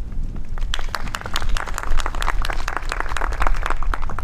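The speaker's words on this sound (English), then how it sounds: "I really appreciate the delayed applause." Steady audience applause greets a retired Marine Corps officer taking the podium at a San Antonio city and military base road-opening ceremony, with dense overlapping claps sustained at even loudness throughout and no speech.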